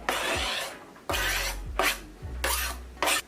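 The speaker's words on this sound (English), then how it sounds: "I'm just adding in some onions and the green peppers" Chopped onions and green peppers being added to cornbread stuffing in a bowl, several rough rasping scrapes and stirs in repeated bursts with soft thuds between, close and moderately loud, no talking.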